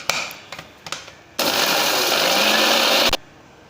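A kitchen mixer grinds dates and sugar for a milkshake: a few short knocks and pulses, then one loud, steady whirring burst lasting under two seconds before it cuts off.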